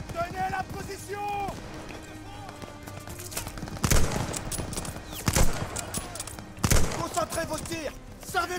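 Gunfire in Call of Duty: Vanguard during a World War II battle, with a few loud sharp shots and bursts standing out over rumbling combat, while voices call out orders throughout.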